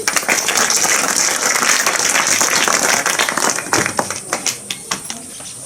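Clapping from a small gathering at a community event honouring Babasaheb Ambedkar's ideology in Modinagar, dense at first and then thinning into a few scattered, separate claps toward the end.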